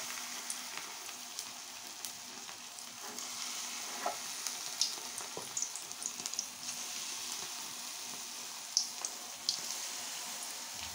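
Corn pakoras frying in hot oil, a steady close sizzle and bubbling throughout, with small pops and the soft plops of batter balls being dropped in one after another.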